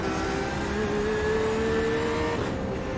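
Porsche 911 RSR and Ferrari GTE race cars at Lime Rock in an IMSA racing game, a steady engine whine with a slowly rising pitch, moderately loud and continuous, with no voices.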